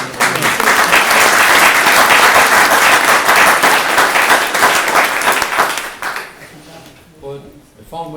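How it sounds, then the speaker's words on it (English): Loud, dense audience applause at a book launch for a debut novel, steady for about six seconds before thinning out and fading, with a voice starting to speak near the end. "could we give them a round of applause for the work they did during"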